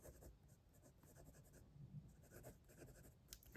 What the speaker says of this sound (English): Let's do a writing sample now. So this is 90 GSM Clairefontaine paper.